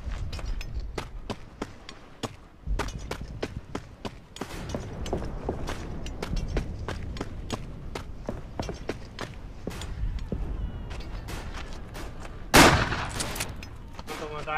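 Video game gunfire arrives as a rapid series of sharp shots, some in quick bursts and others spaced apart, mixed with footsteps and clanks, and one louder close blast near the end.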